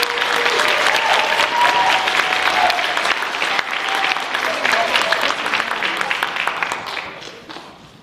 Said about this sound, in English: let's first offer a round of applause for the hard work and dedication displayed by these talented undergraduate students throughout the debate.